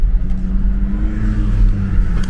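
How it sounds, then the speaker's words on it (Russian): Car driving through Yerevan in the evening: a steady, fairly loud engine and road drone with a low hum that holds throughout, no voices. "Мы снова едем в машине"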